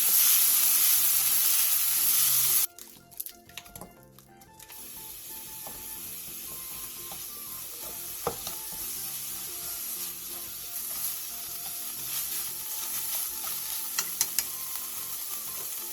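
Chives, tofu and minced garlic stir-fry in a pan, a steady close sizzle broken by occasional scrapes and taps of a utensil, with no talking.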